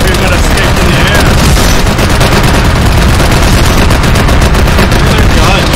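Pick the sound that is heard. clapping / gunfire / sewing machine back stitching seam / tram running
gunfire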